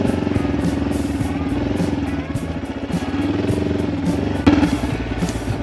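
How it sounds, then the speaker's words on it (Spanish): A flooded motorcycle engine runs roughly and loudly nearby with an uneven, sputtering idle and a clattering, pulsing rhythm throughout. "Tenemos una moto ahogada."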